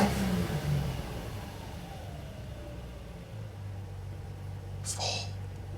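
A Toyota 2JZ engine idles in a GX81, a steady low rumble with uneven hunting, heard close with faint background voices and a brief higher whine near the end.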